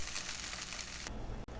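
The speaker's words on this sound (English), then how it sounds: "We will keep frying these rolls till they are light brown and crispy." Bread cheese rolls fry in hot oil with a dense, crackling sizzle that cuts off abruptly to a quieter hiss, close and steady with no talking.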